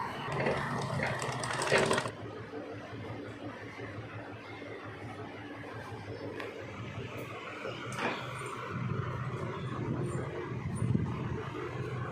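A sewing machine stitches fabric with a low continuous whirring hum, close but moderate in level, with a few light clicks and handling sounds and no clear voice over it.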